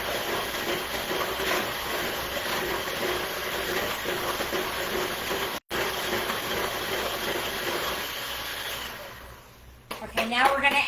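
Steady whirring drone of an electric mixer creaming butter for key lime bread batter, running continuously with a brief cut midway before winding down, followed by a few clattering knocks.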